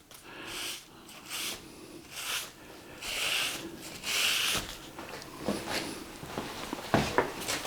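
Oil paint on paper is rubbed during an outdoor beach painting session, with soft, irregular scratchy rubbing strokes rising and falling, close and fairly quiet with no talk.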